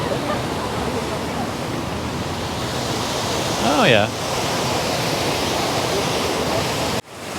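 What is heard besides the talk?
fountain splashing water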